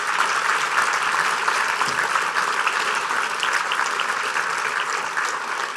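A big round of applause for students and advisors at an Indiana soybean reception: a continuous, even roar of many hands clapping from a sizeable indoor crowd, tapering slightly at the end.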